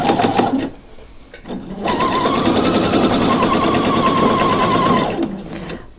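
A sewing machine runs a straight stitch along a seam of lace underwear, with a brief burst at the start, a pause, then a steady, fairly loud whirring run of about three seconds before stopping.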